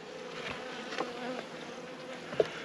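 Honeybees buzzing in an open hive during an inspection after being smoked, a steady, moderately loud droning hum with a few brief louder passes close by.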